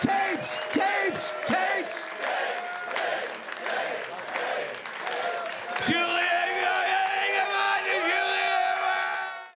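An excited crowd at the DabbleCon 2 comedy event cheers, whoops and applauds loudly and continuously, with voices shouting over the din throughout.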